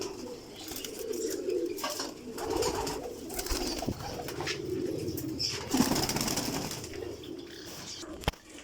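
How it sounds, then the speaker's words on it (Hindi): Chaudhry Safi pigeons in a cage coo steadily and close, with occasional wing flutters and a sharp knock near the end. "ये माशाल्लाह ये चौधरी सफ़ी वाला कबूतर है, ये 10 नंबर ब्रीड"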